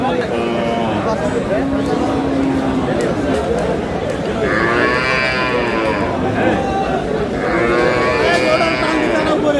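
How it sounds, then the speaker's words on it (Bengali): A Sahiwal dairy cow with her calf mooing loudly at a busy rural cattle market, two long drawn-out moos over constant crowd chatter and nearby talk. "গাভী বাছুর শাহিওয়াল।"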